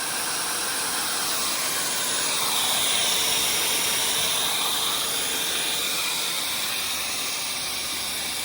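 An air pump inflating the lid cover of a Lay-Z-Spa hot tub, a steady continuous hissing rush of air that holds level throughout without pause.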